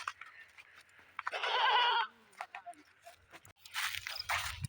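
Goats bleat in a village yard as they are fed leftover rice water, with one loud, wavering bleat in the middle and further calls near the end, over faint background voices and rustling.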